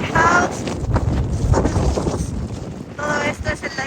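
Strong wind buffets the microphone beside frozen Lake Michigan near a lighthouse during a winter storm, a loud steady roar with gusts, while someone speaks over it.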